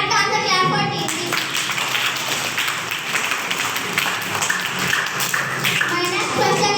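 A school quiz competition audience claps for a correct answer, a dense patter of hands running throughout with children's voices mixed in.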